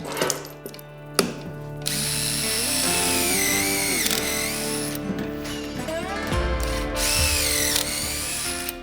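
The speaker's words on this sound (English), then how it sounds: "So I'm not worried about seeing the pocket holes on the outside here. They're gonna be drilled in this way." A drill bores pocket holes into wood for an outdoor elevated planter box, whirring steadily and close for most of the span with ratcheting clicks, pitch dips as the bit bites, and a brief pause near the start.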